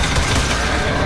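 Dense, sustained gunfire fills the moment as players shoot at a monster in the video game Evolve, a loud continuous burst of rapid shots with no pauses.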